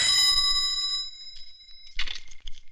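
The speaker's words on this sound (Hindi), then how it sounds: "पिताजी जरा फोन उठाइए" A domestic telephone rings loudly for about a second in a home, a bright bell tone that stops, followed by faint rustling and a brief clatter.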